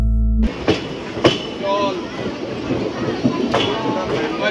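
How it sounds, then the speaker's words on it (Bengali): A train leaving Bardhaman station rolls along the tracks with rhythmic clatter and sharp metallic clanks, wheels faintly squealing, while a voice speaks over the steady rumble. "ট্রেন এখন বর্ধমান স্টেশন ছেড়ে এগিয়ে চলেছে তার গন্তব্যের দিকে।"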